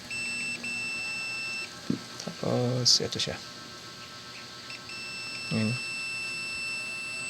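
Buzzer on an LED TV circuit board beeping steady high tones at the start and end, close and fairly loud, with someone speaking briefly in between and a few handling clicks.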